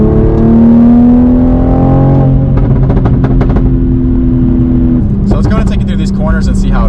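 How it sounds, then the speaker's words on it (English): A 500HP Toyota Supra accelerates hard from fourth gear, its engine note climbing in a loud sustained drone with a gear change partway through, while people talk excitedly over it inside the cabin. "So I'm just going to floor it from fourth gear in auto."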